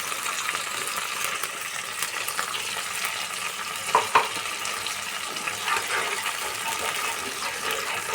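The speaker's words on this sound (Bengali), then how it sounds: "আমি কিন্তু আঁচ কমিয়েই মশলাটা কষাচ্ছি।" Spice masala sautéing in a very hot wok over low heat, a steady broadband sizzle with occasional soft scrapes and clinks of stirring, fairly close and continuous.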